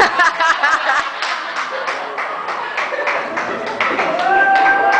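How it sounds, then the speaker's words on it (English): An audience claps through a best man's wedding speech, a dense spread of hand claps with a few chuckles mixed in, while a voice talks over the applause. "Come on, you can keep clapping for that one."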